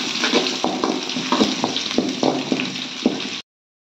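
Steady loud sizzling of onion frying in hot oil with mustard seeds and curry leaves, with faint crackles and stirring clicks throughout, ending abruptly in silence.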